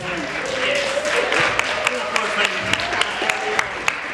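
Audience applause for a band at a Christmas gala and awards ceremony, a steady wash of clapping with sharp individual claps standing out, a sustained tone beneath and voices mixed in.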